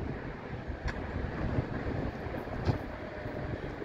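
Steady broadband wind rumbles outdoors on a cool April day beside a railroad curve, with a couple of faint clanks in the distance and no talking.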